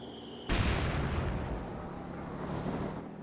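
A heavy artillery blast from mortars and a Bofors gun in the strategy game Company of Heroes 2: one sudden loud boom followed by a long rumbling decay, with a faint tone beforehand.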